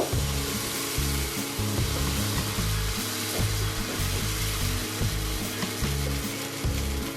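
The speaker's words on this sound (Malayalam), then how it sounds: "ഇവിടെ പാൻ വെച്ചിട്ടുണ്ട് അതിലൂടെ നമുക്ക് ഓരോ തവി ഒഴിച്ച് ഒരു മീഡിയം ഫ്ലെയിമിൽ വെച്ചേരാം" Appam batter sizzles steadily in a pan over a medium flame, a constant close hiss running the whole time beneath background music.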